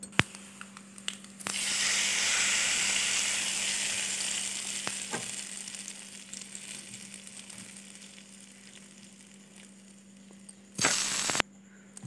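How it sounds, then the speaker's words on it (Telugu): Mustard seeds, cumin, curry leaves and dried chillies dropped into hot oil for a tempering burst into a loud close sizzle that slowly fades over several seconds, with a steady low hum, small crackles and a brief louder flare-up near the end. "నేను ఆవాలు, జీలకర్ర, కరివేపాకు, ఎండుమిరపకాయ మాత్రమే వేసాను"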